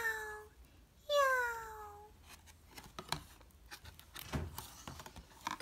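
A cat meows twice in a children's story, short drawn-out cries close by, followed by soft rustling and faint background voices.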